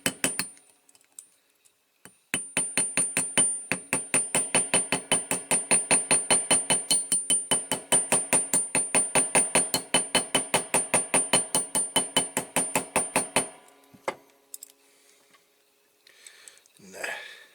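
Rapid metallic hammering on the axle of a Corgi Toys Massey Ferguson 50B toy tractor set on an anvil, a long fast run of sharp ringing strikes that stops abruptly, followed by a few scattered taps and handling noises.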